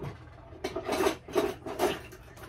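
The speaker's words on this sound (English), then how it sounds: "I'm going to whisk the eggs up." Eggs are whisked in a large bowl, three quick rasping strokes close by, each a short scratchy swish against a quiet room.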